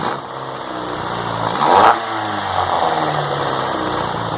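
MK2 GTI engine running on a motorcycle carburetor conversion, idling steadily nearby and then rising into a single brief rev before settling back to idle, with no speech.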